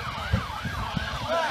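A wailing ambulance siren at a small plane crash scene in Cresskill, New Jersey cycles up and down at a distance, with muffled thumps and background noise beneath it.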